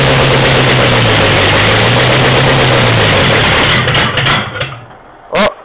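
An old Ford flathead V8 in a scrap rod, cold and on choke, rumbles loud and steady with a low droning idle, then falters and cuts out near the end with a few sputters and a final brief burst.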